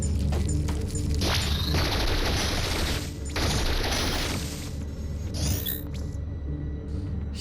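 Turret gunfire in the video game Metroid: Samus Returns sounds as a rapid volley of booming shots and rumbling impacts, dense for several seconds before thinning into a few scattered blasts.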